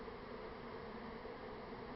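A swarm of honey bees buzzing in a steady, dense drone heard from right inside the cloud, continuous and even, with no voices.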